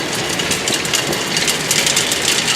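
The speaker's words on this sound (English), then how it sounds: "Blower and everything's running." An Axeman Anderson 130M anthracite coal boiler with its blower and new coal-feed auger running, giving a steady, loud, close mechanical whir and rush that holds evenly throughout with no speech.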